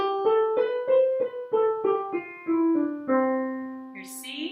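Musical scale played on a clear, plucked-sounding instrument, about nine separate notes stepping down in pitch at an even pace, each ringing briefly before the next, with a voice entering at the end.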